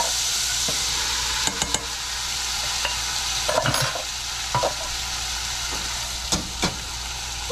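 Canned corn hits hot butter in a pan and fries with a loud, steady sizzle and hiss up close. Sharp scraping clicks of a utensil stirring against the pan punctuate the sizzle every second or so.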